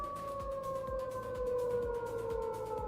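A shrill, very loud siren like an air raid warning during a blackout in Belgrade, two steady wailing tones sliding slowly downward over a rhythmic low thumping pulse.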